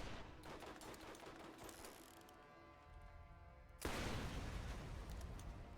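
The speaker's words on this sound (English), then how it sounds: "I don't think they're ready for this explosive bullet to finally connect one of these times." Explosive bullet gunfire in Borderlands, a rapid rattle of shots followed by a loud, sudden blast that leaves a roaring wash of noise, with no talking.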